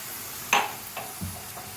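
Grated radish drops into a hot pan with a brief burst of sizzle, followed by a few soft scrapes of stirring at close range, with no talking.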